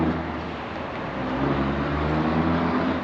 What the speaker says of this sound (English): there's a truck passing